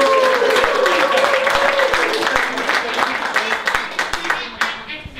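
An audience at a magic teaching session gives a short burst of clapping for volunteers, fairly close and dense at first, thinning out toward the end over a lingering voice.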